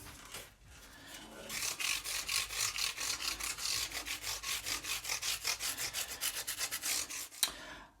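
Fret ends on a Gibson Les Paul Junior are rubbed smooth with a fine abrasive, giving a steady run of quick, rhythmic scraping strokes, close and fairly loud, with no talking.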